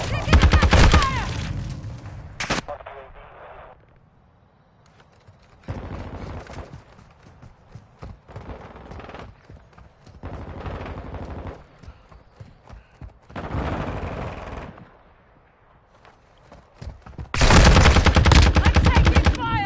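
Gunfire from the Modern Warfare 2 video game, loud bursts of rapid automatic shots at the start and end, with quieter intermittent firing and callouts in between.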